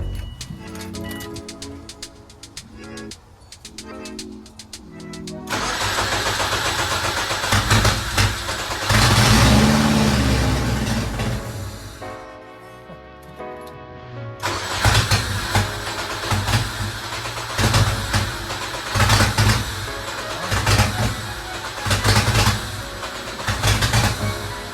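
A loud 2003 Subaru WRX engine turns over and catches after fuel line installation, then runs with a steady, rumbling drone that surges now and then, close by and continuous.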